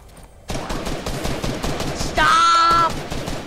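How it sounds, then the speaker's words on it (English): Rapid gunfire from a video game shooter, with a dense, continuous chatter of automatic shots and a brief louder burst partway through, played loud and close. "No, stop shooting me."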